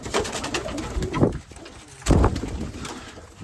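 A racing pigeon coos close by in two short throaty bursts, with faint background noise and no speech.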